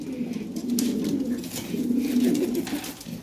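European Lahore pigeons coo softly in low, repeated rolling calls, fairly close, with faint background noise between the coos.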